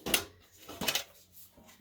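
A small metal tin full of yarn scraps is handled up close, giving a few short clattering knocks and rattles spaced across the moment, with quiet shuffling between them and no talking.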